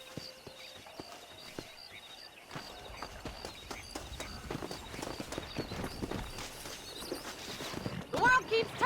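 Steady clip-clop of horse hooves walking at an even pace in Red Dead Redemption, growing busier and louder toward the end, with faint chirps near the close.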